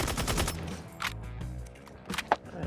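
Striker 45 gunfire in the mobile shooter Call of Duty: Mobile, a rapid burst of loud shots at the start followed by a few scattered single shots over game ambience, with no talking.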